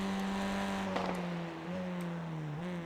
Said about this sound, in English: Oh, love the sound of this car, man.